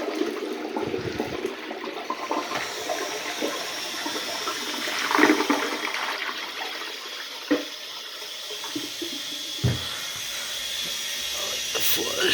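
A toilet on a 1991 URC train flushes with a hissing rush of water and air, followed by gurgling and a few sharp clunks and knocks as the cycle continues.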